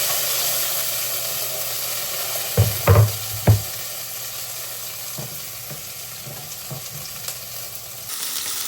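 Chopped tomatoes drop into hot oil for South Indian rasam, setting off a steady broadband sizzle with a few sharp clattering bursts near the start and lighter knocks afterward, all close and continuous without talk.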